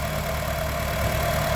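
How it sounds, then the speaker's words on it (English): A 2014 Honda Jazz engine idling smoothly, a steady, even hum heard up close with constant loudness throughout and no talk. "Now, a shot of the motor running."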